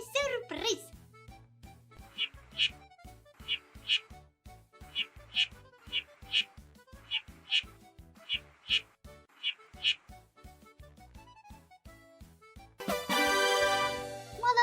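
Cartoon ducklings in a children's counting learning game quack cheerfully in a steady repeating series of short, bright calls over a bouncy musical backing, ending in a louder burst of jingling celebration.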